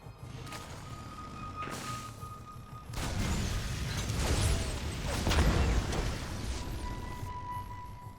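Units shooting at a Zerg Hatchery in StarCraft 2, a dense stretch of game gunfire, impacts and crunching hits over steady background noise, loudest in the second half.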